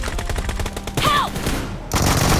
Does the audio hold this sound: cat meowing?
no